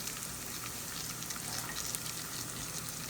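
Rice frying in a pan for Mexican white rice, giving a steady, close sizzle with soft scraping textures from stirring, continuous and fairly quiet with no voices.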